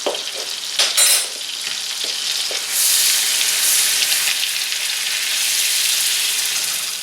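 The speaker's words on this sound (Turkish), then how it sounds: "Şöyle bir çorba kaşığı un ilave ediyorum ve kavuruyorum." A heaped tablespoon of flour roasts in melted butter for a béchamel sauce, with spoon scrapes and knocks in the pan at first, then a steady, loud sizzle as it keeps being stirred.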